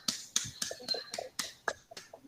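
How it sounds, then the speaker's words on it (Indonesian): Classroom applause for a student, a small group of hands clapping faintly in a short, uneven burst of sharp claps, fairly close and with no talking over it. "Beri tepuk tangan untuk Siti Nabila"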